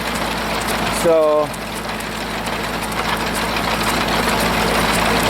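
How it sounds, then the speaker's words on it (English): A tractor engine idles slowly while driving a Belsaw sawmill through a belt, a steady low rumble running throughout; someone speaks briefly near the start. "I don't have the tractor idled up"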